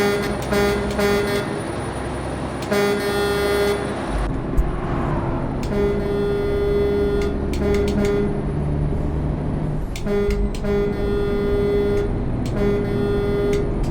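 Loud truck air horn blasts from a Mack truck in the video game American Truck Simulator, repeated bursts of varying length over a rumbling engine, with echoing tones between honks.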